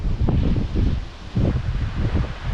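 High wind at the Immingham Bay fishing spot, heard as loud, low, gusty rumbling buffeting the microphone in surges, close and continuous, with no talk.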